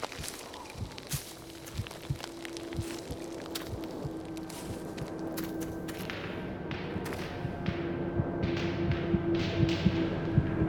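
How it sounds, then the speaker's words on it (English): Scattered fireworks-like bangs and thuds pop irregularly over a low steady hum in the video game Jeff - The Cursed Forest, growing denser and slightly louder toward the end, with no talking. "Sounds like fireworks or something"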